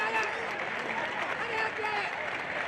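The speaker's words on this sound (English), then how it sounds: "The crowd has erupted in joy." A football stadium crowd at a Santosh Trophy match between Tripura and Maharashtra in Kolhapur roars after a penalty is awarded, a dense, sustained wash of cheering and shouting.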